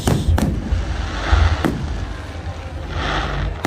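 Glitter-ball fireworks at the Bournemouth Airshow pop in sharp bursts followed by long, loud crackling showers, repeating several times in close succession over a dense, noisy outdoor background.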